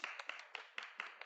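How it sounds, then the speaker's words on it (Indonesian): A few people clapping sparsely in an irregular rhythm, short and fairly faint, a small scattered round of applause with no talk over it. "mari kita beri tepuk tangan untuk keberanian Shueman"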